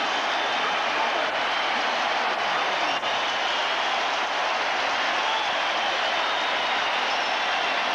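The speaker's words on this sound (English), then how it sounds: "Listen to this crowd." A packed stadium crowd at a 1990 Buffalo Bills home game against the LA Raiders roars after a touchdown, a loud, unbroken wall of cheering that holds steady throughout.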